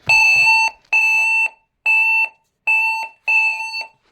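A tinySA Ultra signal detector gives loud, shrill electronic beeps repeating five times at a steady rhythm, each lasting about half a second with brief silent gaps.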